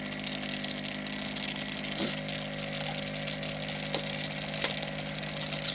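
Loud mechanical rattling and buzzing from a Gaahleri Voortex automatic paint shaker shaking a paint bottle rapidly, constant and close, with a few sharper knocks and no speech.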